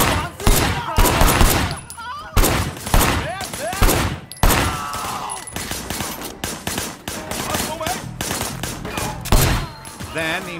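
Rapid bursts of gunfire from the video game Sleeping Dogs, loud and near, in dense repeated volleys with a few short gaps across the stretch.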